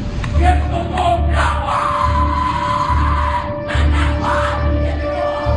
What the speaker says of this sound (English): What you're hearing is the first recording ever made of the Skull and Bones initiation ceremony